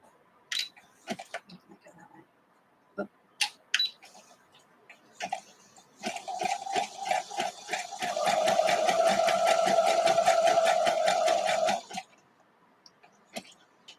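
A sewing machine stitches vintage Sunbonnet Sue quilt blocks: scattered short clicks and bursts of stitching, then a sustained fast whirring run of about four seconds before stopping, with a few more clicks after.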